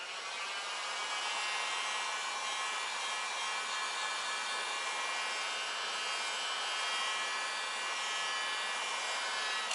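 A heat gun blows steadily on a universal skid plate during a front spoiler install on a Shelby GT350R, a continuous even whooshing hiss with a faint whine that holds at constant loudness throughout, with no voices.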